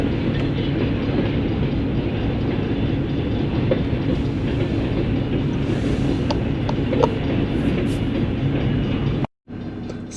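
A train rumbles and clatters on a railway line, a loud, steady, close roar with faint clicks that runs almost the whole time before cutting off abruptly near the end.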